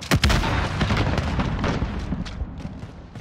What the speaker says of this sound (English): Grenade! Stunner out!